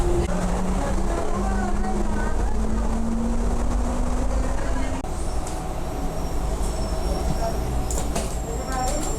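Heathrow airport transit train running toward the B and C wide-body gates, a steady low rumble and rail hum with a rising motor whine, loud and continuous, easing as it slows near the end.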